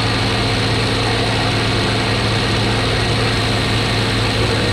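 Piston engine of a Bf 109 fighter in a combat flight simulator, running at full power as the damaged aircraft climbs: a steady, dense, loud drone with a low rumble that holds unbroken throughout.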